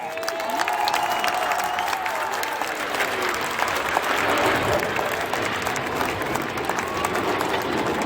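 A large crowd claps and applauds continuously outdoors at a Red Arrows air display in Rhyl, a dense, steady patter lasting several seconds with faint voices mixed in.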